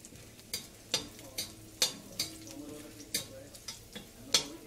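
Chopped carrot for a veg franky fries quietly on a street-food pan while a spatula taps and scrapes it in a steady rhythm of about two strokes per second over a low sizzle.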